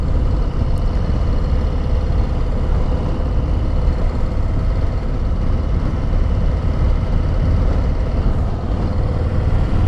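A Harley-Davidson Low Rider S motorcycle cruising on the road, its engine giving a steady, loud, low rumble with wind noise that holds unbroken and alone throughout.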